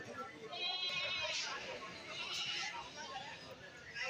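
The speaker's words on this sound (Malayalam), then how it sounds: "എല്ലാ സൈസിലെ മുട്ടനാടുകളും ചന്തയിൽ വന്നിട്ടുണ്ട്" Goats bleat at a busy livestock market in Kerala, several overlapping nearby calls rising over crowd murmur and someone talking.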